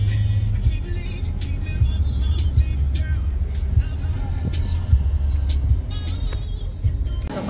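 Steady road rumble and engine drone from a car driving along, heard from inside the car with occasional clicks and bumps and faint talk in the background.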